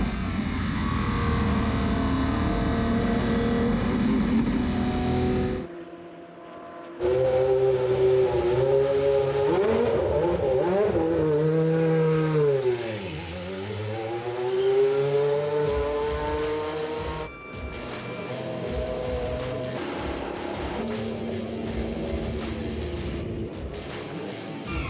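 Historic race car at the Spa circuit flat out at full throttle, engine screaming loud and close, with a brief gap and then a sweeping pitch rise and fall as it passes by, more cars following.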